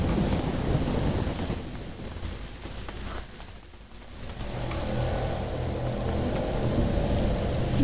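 Thunder and rain in a lightning storm in the video game A Plague Tale, a broad steady roar of rainfall with a heavy rumble that dips briefly midway and then swells again, loud and continuous.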